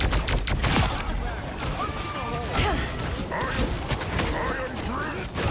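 Invisible Woman firing in the Marvel Rivals game, rapid bursts of shots and impacts layered with energetic game effects and voice lines over a busy, dense mix.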